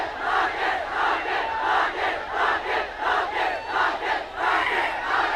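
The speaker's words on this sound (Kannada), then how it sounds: "ಅದಕ್ಕೆ ಯಶ್ ಸರ್ಗೆ ನಮ್ಮೆಲ್ಲರ ಕಡೆಯಿಂದ ಒಂದು ದೊಡ್ಡ ಚಪ್ಪಾಳೆ ಬರಬೇಕು" A large crowd at a film trailer launch event cheers and roars for actor Yash, loud swelling waves of shouting that rise and fall rhythmically, close and continuous.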